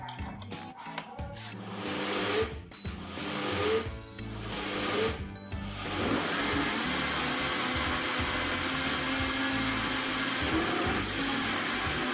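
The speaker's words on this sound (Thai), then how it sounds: "พอปั่นออกมาแล้ว เนื้อที่เราได้มันจะนวลเนียนแบบนี้เลย" Kitchen blender whirring through a bean and coconut milk mixture for Thai bean custard, starting with some clatter and then settling into a loud, steady motor roar that keeps going without a break.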